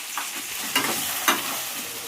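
Crushed garlic, drumstick pieces and tomatoes drop into hot oil in a frying pan for a village-style prawn and drumstick curry, sizzling up close under steady stirring, with two sharper scraping clinks of the spoon.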